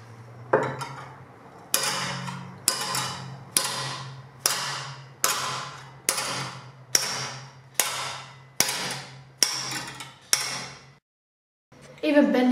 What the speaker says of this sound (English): I'm going to straighten it out with the hammer and dolly.